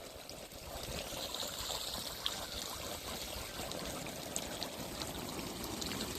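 Steady rushing, splashing water from a kids' splash pad blown about by gusty wind, a continuous close hiss with no voices.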